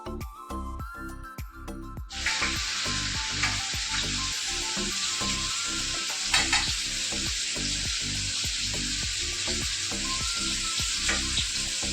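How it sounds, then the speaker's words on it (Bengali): Steady, loud sizzling of pointed gourd frying in hot oil, with occasional stirring clinks and scrapes; no talking. "এখানে পটল ভাজা করছি"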